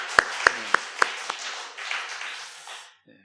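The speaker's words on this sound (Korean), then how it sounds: "박수로 크게 축복합시다." A church congregation at a special prayer meeting applauds: a few sharp, close claps ring out at first, then a softer spread of clapping fades away into near silence.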